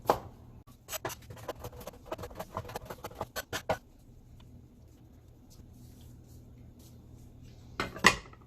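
Garlic being minced with a knife into small pieces: a quick run of sharp, close chopping taps for several seconds, then near quiet, with one last knock at the end.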